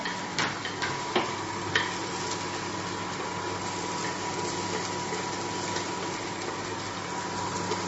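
Chopped onion, garlic and ginger fry in hot oil for a Meghalaya-style black sesame dal. A soft, steady sizzle runs throughout, broken by a few light stirring clicks and taps, with no talking.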